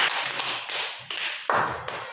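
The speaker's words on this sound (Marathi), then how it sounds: "टाळ्या वाजवा." A group of children in a classroom clap their hands in a short, steady burst of about five sharp, close claps.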